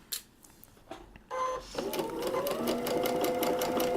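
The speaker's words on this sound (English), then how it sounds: "we'll continue to sew until we get to the end and lock our stitches in" Sewing machine stitching a paper-pieced quilt block, a few handling clicks followed by a steady, close whirring run of needle chatter that continues to the end while a voice speaks over it.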